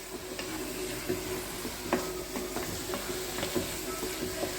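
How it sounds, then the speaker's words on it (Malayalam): Ground coconut sizzles in a pan with coriander and mint leaves while a spoon stirs it, making a steady frying hiss broken by repeated sharp scraping taps. It is close and moderately loud, with no speech. "ഇതും കൂടെ ഇട്ടിട്ട് നമുക്കൊന്നും കൂടെ നന്നായിട്ടൊന്ന് വഴറ്റാം."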